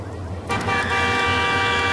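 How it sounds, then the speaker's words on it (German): A car horn honks in a parking garage in the Max Payne video game, a sustained blare starting partway through and holding steady to the end over low rumbling game ambience. "Wer hupt?"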